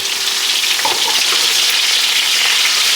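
Oxtails brown in a frying pan with a loud, dense, continuous sizzle that stays close and steady throughout, with faint crackles rising over the hiss and no voices.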